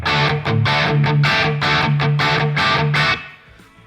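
Electric guitar chord strummed repeatedly through an amplifier with its gain turned up slightly, giving mild distortion; about seven loud, even strums ring out in steady rhythm before the last one is cut short into quiet.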